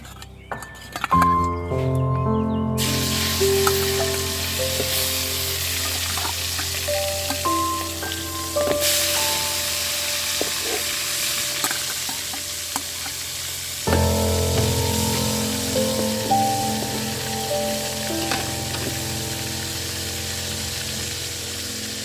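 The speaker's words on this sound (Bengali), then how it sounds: "এখন আমি প্রথমে এখানে মাছ ভেজে নিব" Steady, loud sizzling and crackling of pangas fish frying in hot oil, with occasional clinks of a utensil against the pan, continuous throughout.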